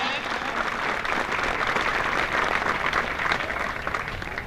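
Audience applause rolls on as a dense, steady clatter of many hands at a Punjab police parade, with no clear break across the few seconds.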